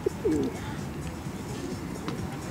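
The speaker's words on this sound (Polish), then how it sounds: "Gołębie w Anglii są strasznie realne." A brief, soft pigeon coo near the start, then steady outdoor background noise in Richmond, England.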